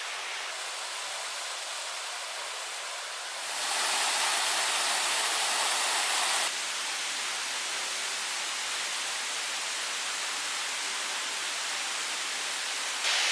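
Continuous roaring rush of Cotter Force waterfall in Yorkshire, dense and steady throughout, growing briefly louder and brighter partway before settling back.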